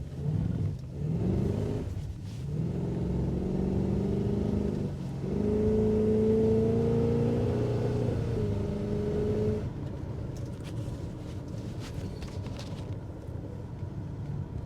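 Iso Lele engine revving hard as the car pulls away, rising harmonic tones climbing through the gears before settling into a steadier, quieter cruise with road rumble.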